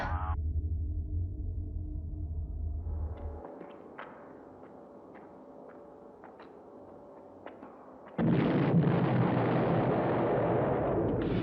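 Explosions hit the surface of a Moon base in the science-fiction series Space: 1999: a deep rumble fades into scattered faint crackles, then a loud, sudden roaring blast surges in and keeps going.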